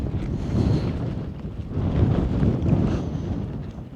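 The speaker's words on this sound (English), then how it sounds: "Still windy." Steady wind on the Appalachian Trail roars across the microphone, a dense low rumble swelling and easing in gusts, with no voices.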